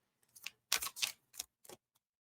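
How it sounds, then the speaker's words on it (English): Playing cards are shuffled on a flimsy, wobbly desk, giving a few quick riffling bursts with short pauses between them, close and fairly quiet. "Probably shouldn't shuffle on my desk. It's not very sturdy"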